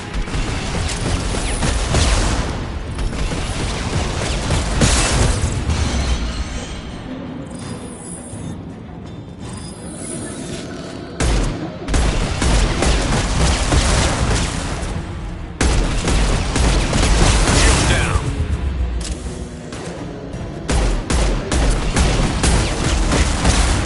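Shotgun blasts and combat mechanisms in the sci-fi shooter Mass Effect 2, a loud, continuous wash of booming gunfire and crashing impacts running throughout with brief lulls.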